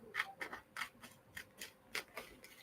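Scissors snipping, a series of about nine quick, crisp metallic cuts in an even rhythm, close and fairly quiet in a still room.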